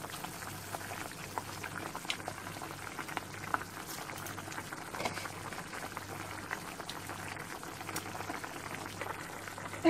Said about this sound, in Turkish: Yemeğim kaynıyor.